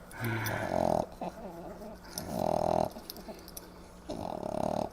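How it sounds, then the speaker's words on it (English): A French bulldog makes three long rumbling, purr-like growls, loud and close, with short pauses and quieter snuffling between them. "Listen to this dog. He's purring."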